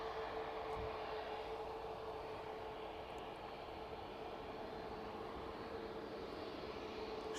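Jet airliner on final approach to runway 09 at East Midlands Airport in the evening: a steady, distant engine drone with a faint whine that stays even the whole time, no voices.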